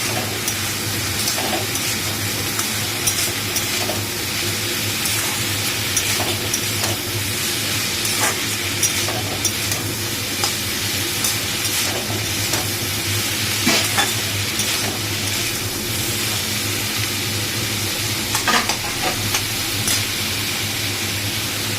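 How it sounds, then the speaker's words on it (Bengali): Potatoes and capsicum fry with turmeric in a pan, giving a steady loud sizzle with occasional scrapes and stirring clatter throughout and no talking. "এটা ভালো করে ভাজবো।"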